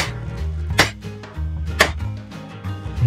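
Garlic cloves are struck to crack them for peeling: two sharp, loud whacks about a second apart rise above softer handling knocks and rustles, close up and with no talking.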